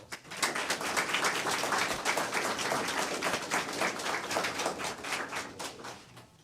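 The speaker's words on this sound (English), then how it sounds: "let's give them a round of applause" Sustained applause from an audience at a fire department awards ceremony, a dense steady clapping that runs for several seconds at even loudness.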